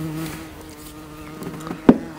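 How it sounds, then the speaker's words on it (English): A bee buzzes in a steady, close drone that wavers slightly, then gives a brief louder burst near the end. "There's a fly. Oh, no, that's bee."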